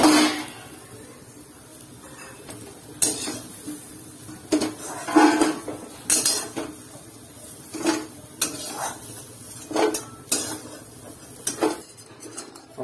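A metal utensil knocks and scrapes in a frying pan as fried jackfruit seeds are lifted out, producing sharp separate clanks spaced a second or two apart over a quiet kitchen background.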